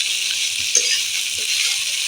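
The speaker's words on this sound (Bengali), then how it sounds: "আর তারপরে আমি পেঁয়াজটা দিয়ে দিলাম" Potato and onion frying in a pan give a steady, moderately loud hiss that runs through the whole moment, with a few soft knocks from stirring.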